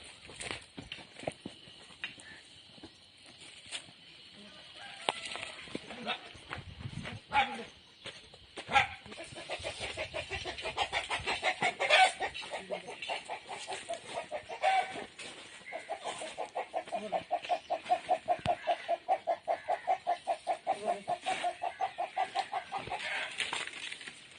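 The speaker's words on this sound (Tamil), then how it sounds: "கோழி ஆமாம் கோழி" Chickens cluck and squawk at a house, with scattered flapping and then a run of rapid, rhythmic clucking that grows busier toward the end, fairly close and without speech.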